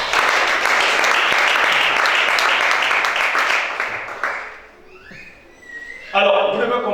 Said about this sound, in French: Acclame le Shaddai